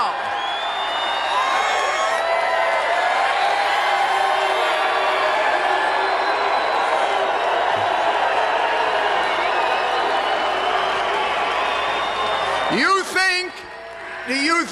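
A large crowd at a Donald Trump campaign rally in Everett, Washington, roars, cheers and whoops continuously at loud, sustained volume, then breaks off briefly near the end.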